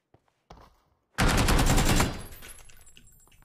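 AKM automatic rifle fire in PUBG: a couple of faint pops, then a dense, loud two-second spray of rapid shots that cuts off and trails into a fading echo.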